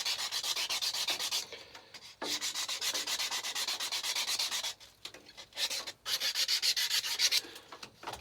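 Hand rubbing and sanding on a Mack B61 truck door panel part: steady, close scraping strokes in a repeating back-and-forth rhythm with brief pauses, alone.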